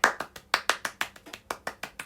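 A single person claps hands in a quick, somewhat uneven rhythm of about a dozen sharp, close claps over two seconds, with no talking.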